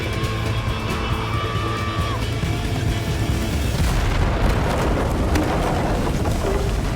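A bomb goes off in a cave in a movie scene: a loud, deep rumbling boom blends with a continuous roar and debris noise that lasts the whole stretch.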